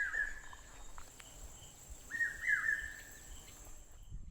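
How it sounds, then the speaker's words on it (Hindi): Birds call along a quiet trail down to Lonar Lake, a crater lake in India, two short bursts of chirping a couple of seconds apart, faint and somewhat distant over soft insect and outdoor hiss. "पक्षियों की बहुत अच्छी आवाज़ आती है यहाँ पर"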